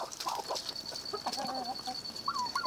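Índio Gigante roosters in an aviary cluck and call in short bursts, moderately near, over a steady high background hum.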